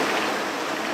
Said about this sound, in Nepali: यहाँ पछाडि यसो खोला सुसाइरहेको छ